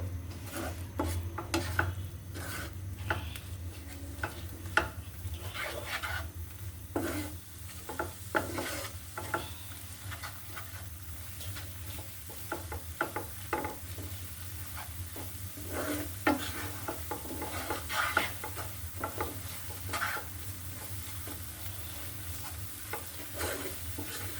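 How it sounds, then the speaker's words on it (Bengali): Ground spices (turmeric, coriander, cumin, salt) sautéing in a pan, a soft sizzle broken by repeated scraping stirs of a spoon against the pan, no voices. "চুলোটা আমি অন করে দিয়েছি মশলাটা আমি কষিয়ে নেব"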